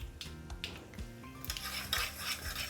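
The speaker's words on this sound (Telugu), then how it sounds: "అంతే, ఇప్పుడు ఇది పచ్చడిలో కలుపుకోవడం" A spoon stirs a hot tempering of chillies and oil into peanut chutney, with quiet scraping and clinking against the vessel and soft sizzling, close by and alone.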